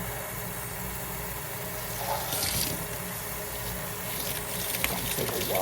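Tap water runs steadily into a bottle, rinsing out soap suds, a continuous rushing splash that stays fairly even and swells slightly partway through.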